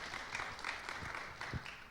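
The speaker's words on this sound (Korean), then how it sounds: "하나님께 영광의 박수" A church congregation at a Korean revival meeting gives a short round of applause, a soft, somewhat distant patter of many hands clapping with a few louder bursts.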